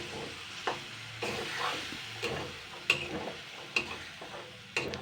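Jackfruit seeds sauté in a wok over a low, steady sizzle, with sharp spatula scrapes and knocks every second or so, close by and fairly quiet.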